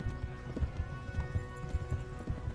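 Horse hooves clip-clop at a steady walking rhythm in the medieval game Kingdom Come: Deliverance, close and moderately loud over a low ambient bed, without talk.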